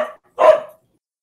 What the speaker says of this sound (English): We'll chip tune my dog's barking to the fade out song